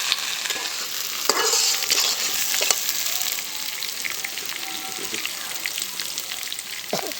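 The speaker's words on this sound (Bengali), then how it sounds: "তো খোসাগুলো আমি চারা নিয়ে আসছি এগুলো পেঁয়াজের সাথেই দিয়ে দিই" Small, round new potatoes fry with onions in a home kitchen pan, a bright continuous sizzle with occasional stirring scrapes and clicks, fairly close and steady from start to finish.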